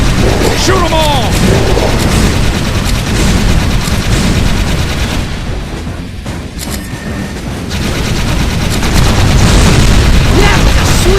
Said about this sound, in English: That was a sweet fireball!